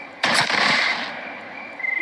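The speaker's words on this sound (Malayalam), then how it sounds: "അവൻ കറക്റ്റായിട്ട് വെടി വെച്ചെന്നെ" A single sharp gunshot in the Granny 3 video game, a loud close crack with a short decaying tail, followed by faint clicking.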